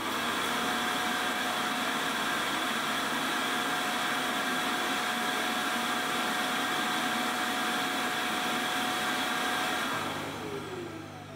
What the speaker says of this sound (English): When it returns to the base station, it empties the dustbin